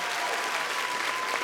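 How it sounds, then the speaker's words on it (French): A theatre crowd at a televised talent-show semi-final claps loudly and continuously in a brief, dense burst of applause with no talk over it. "je crois qu'on peut les applaudir encore très très fort"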